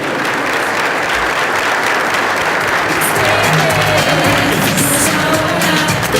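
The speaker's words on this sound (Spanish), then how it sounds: "El aplauso, por favor." Loud, sustained applause from a large crowd at a political launch event fills the clip, steady and dense throughout.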